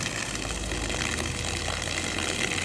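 Compressed air blasting water out of an inground sprinkler system line during winterizing, a continuous dense hissing gush with a low engine-like rumble underneath, steady and loud throughout.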